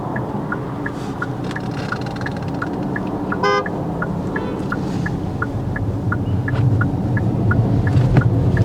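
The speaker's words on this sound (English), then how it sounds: "The vehicles behind sound their horn." Car horns sounding from vehicles queued behind a learner driver at traffic lights: repeated short toots in a steady pulse, with one longer blast midway, over continuous engine rumble inside a car.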